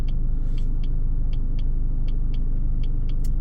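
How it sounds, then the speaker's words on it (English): A Jaguar X-Type 2.2 diesel estate car with automatic gearbox drives along at a steady pace, its low engine and road rumble droning continuously from inside, with faint regular ticking above. "So I'm just driving back now."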